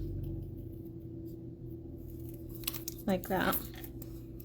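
Scissors snipping through paper while making a Valentine's Day sketch, two quick close cuts heard over a steady low hum, with a brief bit of talk nearby.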